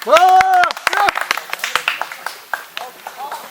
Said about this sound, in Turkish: Oğlum adamlar niye alkışlamıyorsunuz kaç saattir lan?